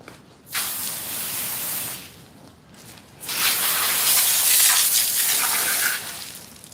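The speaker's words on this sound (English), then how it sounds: "I'm gonna do a quick rinse" Water sprays in two bursts, rinsing a freshly skinned and gutted pig carcass. The first burst is shorter and the second is longer and louder, with a steady hissing rush and no voices.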